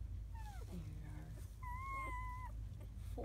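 Newborn German Shepherd puppies, a litter of seven, give thin high whimpers and squeaks, several short rising and falling cries with one longer wavering whine, close up over a steady low hum.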